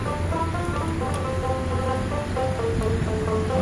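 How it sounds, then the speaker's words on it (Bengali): Steady rain falling outdoors near an old palace in Taif, Saudi Arabia, a continuous even hiss with soft patter, close and fairly loud throughout with no voices. "বৃষ্টি হইতেছে"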